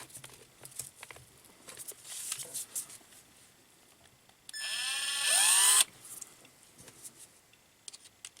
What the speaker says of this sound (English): Now I'll go with a screwdriver bit. See, I probably want to use pH1.